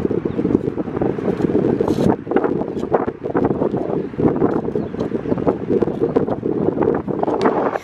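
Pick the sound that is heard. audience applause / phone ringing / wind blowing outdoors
wind blowing outdoors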